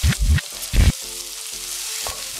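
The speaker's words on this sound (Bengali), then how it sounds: "এখন এগুলো খুব ভালোভাবে একটু ভেজে নিতে হবে বাদামি হওয়া পর্যন্ত" Green chillies, onion and vegetables frying in a pan for vegetable khichuri, with loud bursts of sizzle and spatula stirring followed by a quieter steady crackle.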